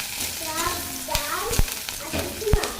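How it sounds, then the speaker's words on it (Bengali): Leafy greens (shak) fry in a pan with a soft sizzle and a few sharp spatula knocks, close by, while a voice and other talk carry over them. "এই শাকটা ভেজে নিই"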